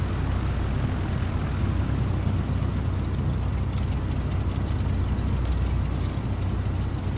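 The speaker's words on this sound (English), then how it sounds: "we can just hear your airplane in your microphone" Cessna 152 propeller engine from a flight simulator, bleeding through a microphone as a loud, steady low drone that runs unbroken for the whole stretch.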